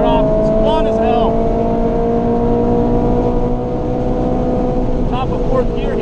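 Race car engine held near the top of fourth gear on the Mid-Ohio track, a loud steady high-pitched drone with a sustained whine, heard from inside the car with constant roar throughout.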